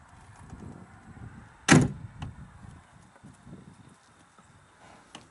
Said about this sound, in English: It's got all your bear claw latches in the doors.